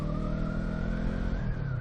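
A 300cc sport bike engine revs up, its pitch climbing steadily in a smooth, buzzing wind-up heard close by.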